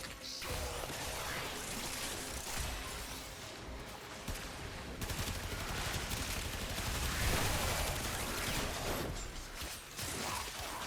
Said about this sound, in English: In general, enemies just shooting us